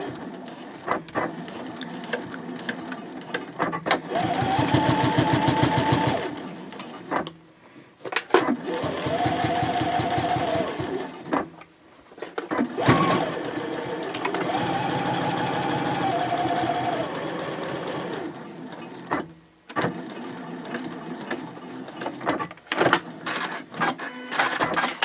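A sewing machine stitches the sides of a fabric basket together at a 3.0 stitch length, running in several loud, rapid mechanical bursts separated by pauses, with a voice speaking between runs.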